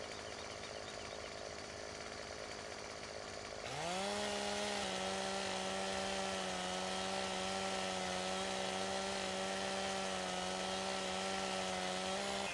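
A chainsaw felling trees in the video game Farming Simulator 17 starts up partway through, then holds a loud, steady, buzzing drone close by without pause, with no voices over it.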